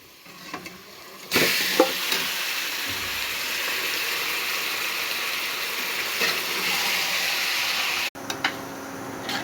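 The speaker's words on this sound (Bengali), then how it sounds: "পেঁয়াজটা আমার ফ্রাই করা হয়ে গেছে, এবার আমি মাটনটা ঢেলে দিচ্ছি।" Mutton tipped into a pan of fried onions bursts into a loud, steady sizzle after a quiet first second, with occasional stirring clatter over the hiss.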